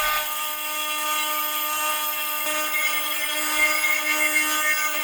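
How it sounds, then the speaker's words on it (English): A rusted, water-recovered hatchet has a new edge ground onto it, giving a steady, loud, high whine of a grinder with sustained tonal hum and gritty hiss, continuous for the whole stretch with no talk. "Now I'm going to be making a new edge for the hatchet since the old edge is completely gone"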